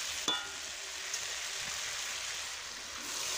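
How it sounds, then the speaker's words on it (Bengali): Kohlrabi frying in a pan, a steady soft sizzle with a couple of brief clicks near the start, continuous and fairly quiet with no talk. "দেখুন আমি অনেকক্ষণ ধরে ভাজতেছি"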